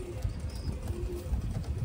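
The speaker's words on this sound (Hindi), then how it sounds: "ये देख लो कबूतर" Panjabi Malwai pigeon, a breeding bird of good bloodline, giving soft low cooing calls in a steady murmur close by, with faint background rustle and no talk.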